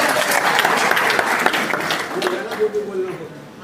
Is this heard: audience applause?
yes